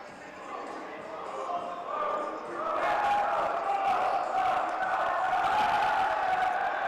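A high school volleyball team, the Warren Central Warriors, chanting their signature cheer in a gym, a swelling crowd of voices that grows louder and sustains, with an announcer talking over it.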